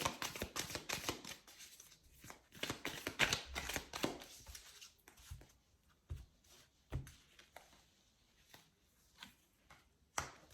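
Oracle cards are shuffled and drawn by hand, producing bursts of riffling, flicking and soft slapping close by, loud at first and then thinning into scattered taps and rustles, with no talking.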